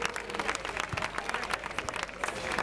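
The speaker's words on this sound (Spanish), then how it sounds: "Un fuerte aplauso para él." At a festival trophy ceremony, a crowd gives a fairly faint, uneven round of clapping for the winner of a shooting contest, with scattered individual claps in a short burst.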